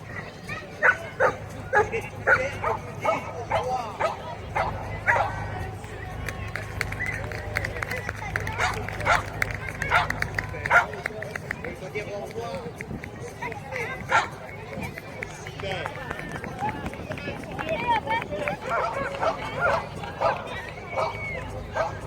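Small dog yapping and barking in quick, repeated bursts amid a crowd, with a person talking and background chatter throughout.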